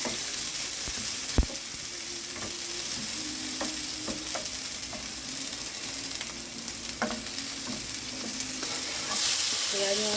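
Garlic sautés in a pan for Filipino pakbet, a steady soft sizzle with occasional stirring taps and clinks of a utensil, close but fairly quiet and continuous for about ten seconds.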